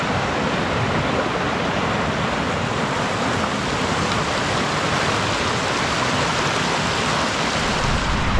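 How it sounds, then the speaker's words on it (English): Steady, broad rushing roar of a waterfall dropping down to a lake, continuous and constant throughout with no voices. "There's definitely a waterfall that I can see over here, and it looks like a pretty good drop down to the lake."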